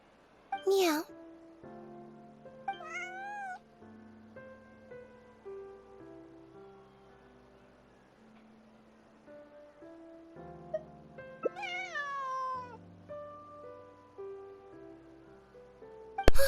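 Short cat meows from the Genshin Impact video game rise over soft game music, with two or three brief high cries spaced apart and a voice speaking in between.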